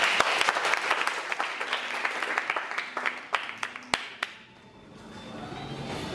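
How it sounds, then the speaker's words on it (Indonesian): Audience applause before the first speaker in a college debate competition, dense clapping that thins to a few scattered sharp claps and dies away into quiet room tone. "Berikan tepuk tangan dulu."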